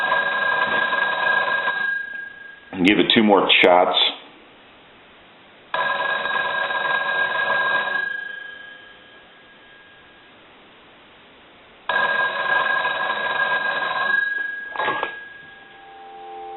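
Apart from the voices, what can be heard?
old telephone bell ringing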